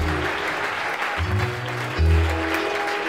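A church congregation at a French Sunday worship service claps together, a steady dense patter with a low hum of voices and organ-like tones underneath.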